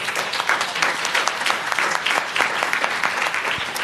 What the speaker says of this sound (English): I'd love to do a round of applause for the volunteers here that are getting it started